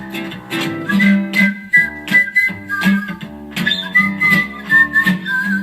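A person whistles a lively melody with quick pitch jumps and trills, close and clear, over soft background accompaniment.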